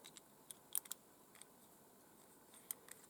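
A rifle scope turret is adjusted by hand in the taiga, giving a few faint, sharp, close clicks scattered irregularly through a quiet background.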